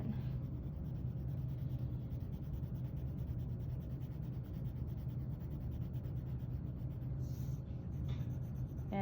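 Pencil shading fills in a still-life drawing on paper, a continuous close scratchy rubbing of graphite strokes, steady and unbroken with no talk.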